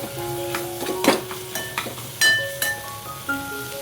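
Dried fish frying in spice masala in a pan, with sizzling and several stirring scrapes and clinks close by, no voices.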